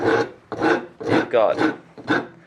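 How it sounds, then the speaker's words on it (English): A rasp files a wooden axe handle in about five rhythmic, close strokes, each a short scraping burst with brief gaps between. "You've got kind of a curvy bit, and you're actually able to roll the rasp as you're rasping."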